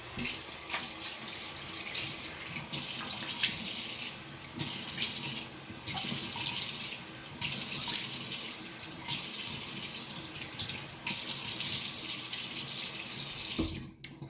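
Tap water runs into a bathroom sink while a face is rinsed, a steady close splashing stream with a few brief dips and shifts, no voices.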